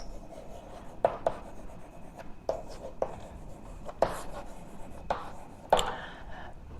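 Chalk or marker strokes on a board during a physics lesson, a series of short scratchy taps and rubs spaced a second or so apart, moderately close with a soft room hiss behind.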